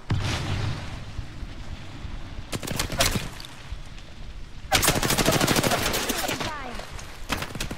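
Gunfire in a shooter video game, with bursts of rapid shots around three seconds and a longer sustained volley from about five to six and a half seconds over steady game ambience.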